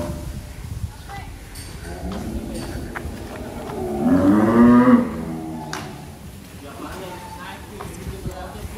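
A sacrificial cow being exercised on a farm lets out one long, loud moo partway through, rising above steady farmyard noise and scattered background voices.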